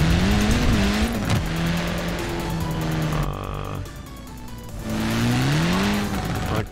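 Car racing in Forza Horizon 4, with a loud, close engine revving and shifting pitch continuously and tire squeal rising in stretches, while someone talks over it.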